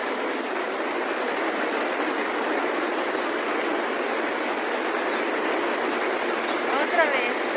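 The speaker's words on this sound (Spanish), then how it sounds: "Otra vez nos agarró la lluvia" Steady, dense rain hisses evenly throughout, a constant wash of drops falling close by with no pauses.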